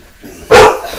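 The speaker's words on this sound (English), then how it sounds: "Hush that dog down." One sharp, loud dog bark bursts out close by after a low murmur of background noise, then trails off into the room.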